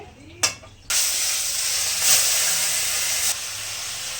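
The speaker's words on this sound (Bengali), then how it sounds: "মাছগুলো ভালো করে ভেজে নেবো গরম হয়ে গেছে" Fish sizzling and frying in hot oil in a home kitchen pan for a Bengali fish curry, a steady loud hiss starting after a brief clatter and continuing throughout.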